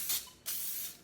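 Two short hissing bursts of cooking spray coat a cast iron bread pan, the second longer than the first, close and fairly quiet.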